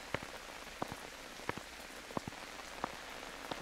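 Steady rain falls on a surface at night under dark clouds, a soft continuous hiss with occasional sharper drips and taps, faint and even throughout.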